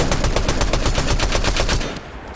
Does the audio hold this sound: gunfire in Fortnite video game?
yes